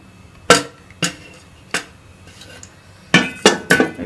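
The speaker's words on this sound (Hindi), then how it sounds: "चूल्हा जला लें और इसके अंदर 2 चम्मच घी के आप डाल दें" A metal spoon clinks against a hot pan on the stove while ghee is added: six sharp, close knocks, three spaced apart and then three in quicker succession.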